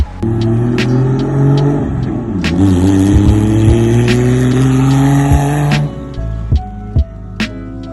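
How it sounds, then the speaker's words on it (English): A car with a 500+ hp RB25 engine on a base tune drones and revs close by on a test drive, pitch rising through acceleration, then dropping with a few knocks and bumps from the road. "I took the car out for another test drive."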